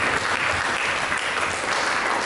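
A church congregation claps during a worship service, a loud, dense and steady burst of applause from many hands, continuous and without speech.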